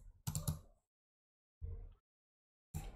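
Short bursts of computer keyboard typing in a Roblox game chat, two quick clusters of clicking with silence between and another burst at the end, close and fairly quiet.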